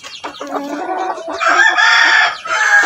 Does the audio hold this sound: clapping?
no